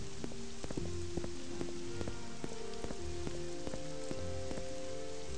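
Steady rain patters without a break in the video game Morrowind, with faint tonal game sounds running beneath the downpour.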